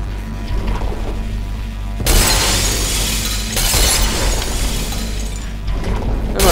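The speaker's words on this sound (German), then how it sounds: "Immer schön das Glas kaputt machen" Glass shatters loudly in the video game Portal 2, a sudden crashing burst followed by a second burst of breaking debris, set over a low steady game hum.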